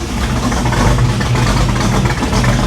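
A 1987 Chevy Monte Carlo SS engine idles steadily just after a cold start with the choke opening, a loud, rough low rumble running continuously with no talking.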